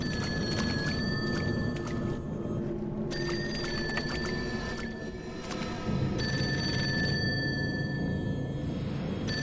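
A telephone rings in the horror video game Fatal Frame: Maiden of Black Water, with bright repeating rings that pause and resume over a dense, murky ambient bed.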